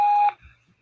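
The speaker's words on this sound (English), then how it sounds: "Please tell us your name after the beep." Call-in podcast software gives a single short, clean electronic beep, then near silence with a couple of faint soft bumps.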